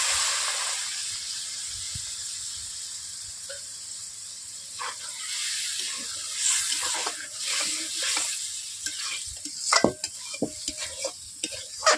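Spice paste of ground poppy seed sizzles hard in a kadai as a little water goes in, a steady bright hiss with scraping stirs and spoon clinks growing busier toward the end.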